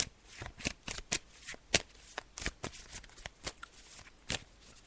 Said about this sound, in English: I'm just shuffling the cards now.